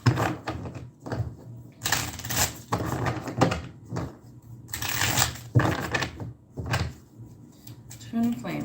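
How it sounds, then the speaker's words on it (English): A deck of tarot cards is shuffled in several quick riffling bursts, with pauses between them and a voice speaking softly in the gaps. "Get a couple of good shuffles."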